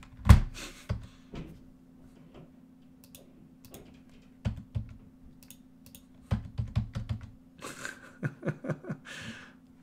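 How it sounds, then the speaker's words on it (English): Computer keyboard typing, a sparse run of light plastic key clicks with pauses, then a quicker burst of taps near the end, close and quiet with no talking. "Man, this keyboard not working."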